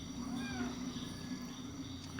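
Cat meowing faintly in a few drawn-out calls over a steady background hum, with quiet talk nearby.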